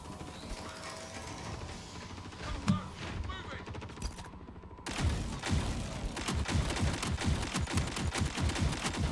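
Rapid gunfire in a VR shooter game, including shotgun blasts, crackles in dense repeated bursts that grow louder and steadier after a brief pause, with a voice talking over the early shots.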